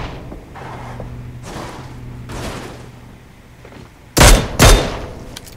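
Gunfire in the mobile battle-royale game PUBG Mobile during a tournament match: two loud, sharp shots close together near the end, after quieter thuds and a low game hum.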